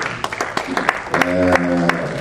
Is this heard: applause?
yes